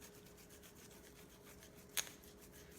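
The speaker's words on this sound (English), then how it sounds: "it's grating up my ginger so I can put it into my potatoes" Ginger root rubbed across a grater plate, a faint, steady rhythmic rasping scrape with one brief sharper knock near the end, close and quiet.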